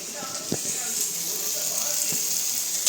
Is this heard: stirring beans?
yes